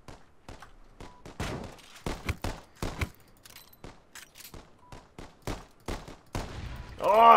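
Gunfire in the zombie escape game Pandemic Express, a rapid series of sharp, close shots in uneven bursts, with a louder blast at the very end.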